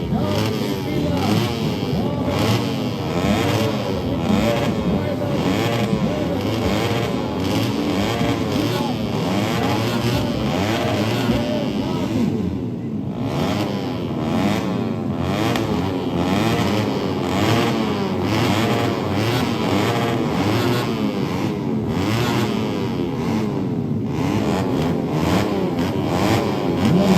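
Several 150 cc racing motorcycles roar past one after another during a regional open road race on a former airport circuit, engines loud and continuous with a commentator talking over them throughout.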